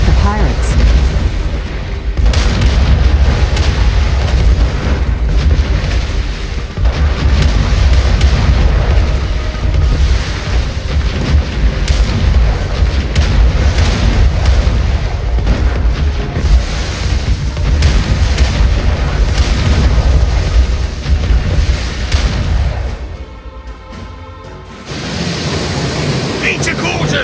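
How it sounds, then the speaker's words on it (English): Booming cannon fire and battle din from a pirate fight in the ArcheAge video game, loud and continuous, dropping briefly near the end before resuming. "Use the cannon's skills to attack the pirates."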